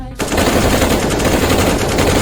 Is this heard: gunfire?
yes